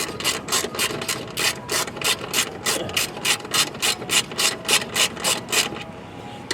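A hand ratchet clicks in quick, even bursts at close range, about a dozen regular strokes as it tightens fasteners on a base plate during a 2012-2017 Maserati Quattroporte installation, with no talking.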